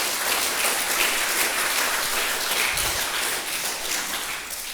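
Sustained applause from an audience, a dense wash of many hands clapping steadily throughout, fairly loud and continuous.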